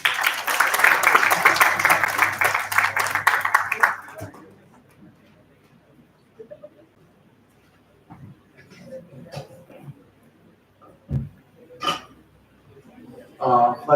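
An audience at an economics department lecture breaks into loud, dense applause for about four seconds. The clapping stops abruptly, followed by a quiet room with scattered thumps, a cough and a little speech.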